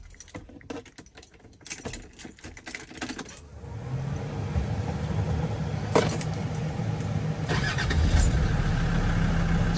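Keys jangle and click near the ignition of a Land Rover Defender 90 TD5 before its diesel engine cranks and fires into a low steady idle at about the midpoint, rumbling close by, with brief rattles over the running engine.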